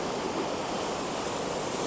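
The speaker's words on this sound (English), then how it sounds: "Waterfall." A waterfall beside train tracks roars as a dense, continuous broadband rush of falling water, steady and fairly close with no voices over it.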